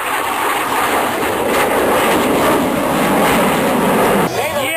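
Boeing F/A-18 Hornet jet at an air show with afterburner lit, a loud, steady roaring rush of engine noise filling the whole stretch, with a brief shift in tone near the end.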